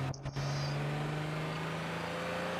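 Car engine in The Sims 3 video game, a steady synthetic motor hum holding one pitch after a short click and chime at the start, with no voices.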